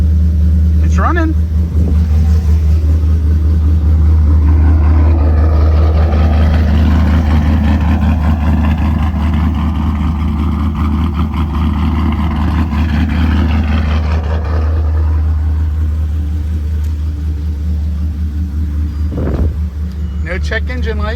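The 2013 Chevy Caprice PPV, Holden-built with an LS2 V8, runs at a steady low idle, loud and close, with people talking over the engine drone.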